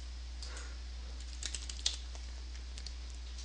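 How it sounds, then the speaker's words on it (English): Light keystrokes tapped on a computer keyboard while a Drush command is entered at a terminal, a faint, sparse cluster of clicks over a low steady hum, no voices. "Downloading modules or themes is as easy as typing"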